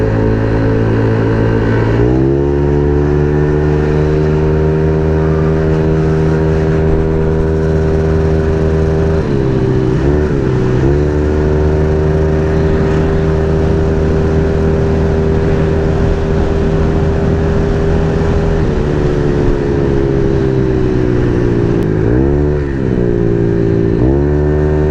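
Congested road traffic packed with trucks, a loud, close, continuous rumble of heavy engines idling and pulling away, with pitch dips as vehicles shift and move, and no talk.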